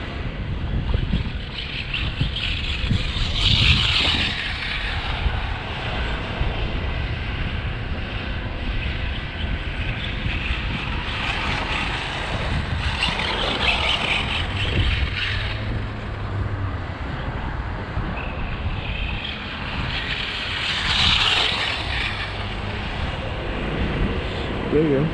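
An ECX Circuit 4x4 RC car running on its stock 2150 motor on a 3S setup whines steadily as it drives around, swelling louder in repeated passes, with a faint voice briefly audible.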